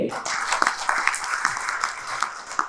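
An audience at a stage event in New Delhi claps in dense, continuous applause, with loud, near, rapid overlapping claps that hold steady for the whole stretch.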